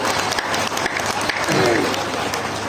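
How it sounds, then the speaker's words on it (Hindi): Loud, steady applause from an audience at a Hindi kavi sammelan poetry gathering held for an Oswal Holi festival, dense clapping filling the whole stretch with some crowd voices mixed in. "एक बार जोरदार तालियां।"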